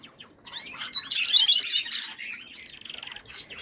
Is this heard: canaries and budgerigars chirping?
yes